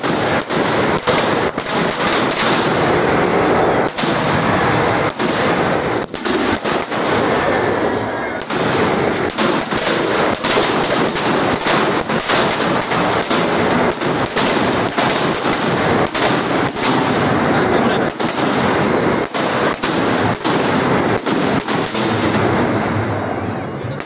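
Dense, rapid strings of firecracker bangs burst from a burning Ravana effigy at a Dussehra celebration, a loud near-continuous crackling barrage lasting throughout with brief gaps.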